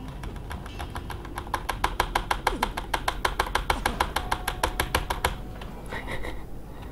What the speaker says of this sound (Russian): А то давно ты не слышал, как я долблю по кнопке Е.